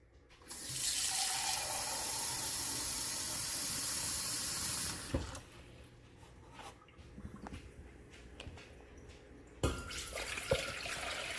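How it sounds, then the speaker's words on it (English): Tap water gushes into a pot being filled with six cups for Kraft Dinner, a loud, steady hiss that runs for about four seconds and then stops, followed by quieter clinks and handling noises. "we're going to start with putting 6 cups of water in our pot."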